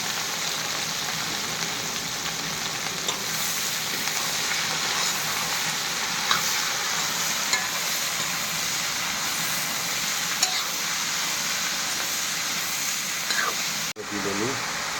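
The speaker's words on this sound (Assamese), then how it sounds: "জলকীয়াটো ভাজি কৰি লওঁ আগতে, তাৰপিছত চব্জি ভাজি একেলগে ভাজি দিওঁ" Chillies, then vegetables and potatoes, fry in a pan with a loud, continuous hiss and crackle, steady throughout and heard up close, with a brief clatter near the end.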